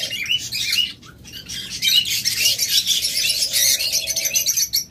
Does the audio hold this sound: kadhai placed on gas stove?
no